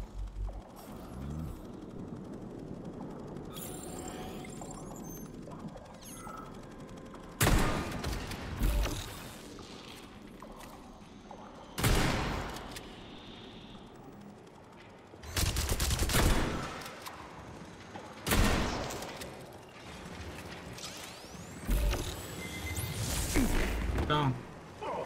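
AK rifle fire in the video game Atomic Heart comes as several loud bursts of automatic gunfire separated by quieter stretches of mechanical clicks and game noise, with someone talking in between.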